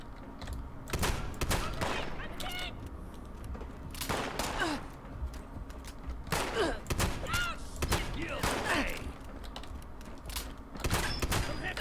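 Shotgun fire in Fallout 76: loud, widely spaced blasts repeating every second or two across the stretch, close and punchy over steady combat ambience with occasional voices.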